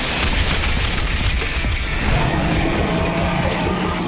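A rock shot magic spell hits, a loud sustained rumbling boom of crashing, bursting impacts that holds without a break throughout.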